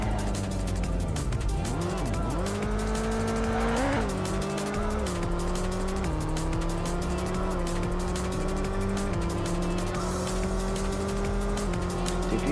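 Racing car at full throttle on the Hiroshima Expressway in VRChat, engine whining and rising through gears with tire squeal and skidding, loud and close throughout without talk.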